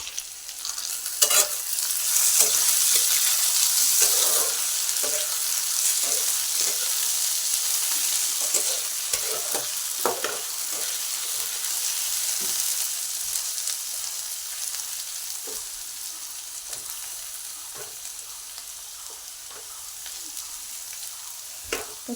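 Potatoes and onions fry in a pan with a steady, loud sizzle throughout, broken by repeated scraping and clinking of a stirring spoon; no one speaks.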